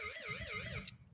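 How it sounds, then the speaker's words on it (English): A short electronic alert tone warbles up and down for under a second, fairly faint, then cuts off. "I heard the beep."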